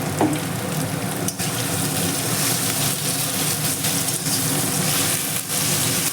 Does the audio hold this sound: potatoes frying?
yes